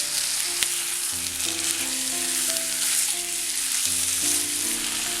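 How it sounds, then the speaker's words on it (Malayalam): Chicken sautés in hot oil with softened onions for a Kerala-style roasted coconut chicken curry, giving a loud, steady, close sizzle throughout with soft music running underneath. "ഈ ചിക്കൻ ഈ എണ്ണയിലൊന്ന് വഴറ്റിയെടുക്കണം"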